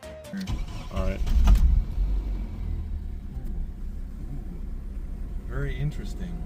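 A two-wheel-drive Jeep Cherokee XJ is under way, its engine rumble and road noise holding steady at low to moderate level, while people talk briefly inside the cabin.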